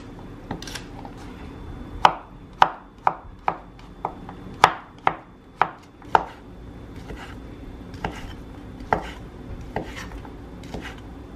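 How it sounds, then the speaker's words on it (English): Vegetables being chopped into bite-size pieces on a cutting board while cooking at home: a steady series of sharp, close knife thunks, about a dozen in quick succession, then a few sparser strikes. "you want to break these part into edible pieces, not too big"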